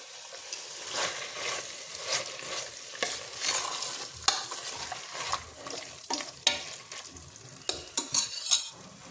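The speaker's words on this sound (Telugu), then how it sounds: "చికెన్ అంతా బాగా ఫ్రై అయింది కదా. ఇప్పుడు ఒకసారి అంతా బాగా కలుపుకుందాం అండి" Chicken for donne biryani frying and being stirred in a pan, a steady close sizzle broken by repeated scraping strokes and light utensil knocks, with no voices.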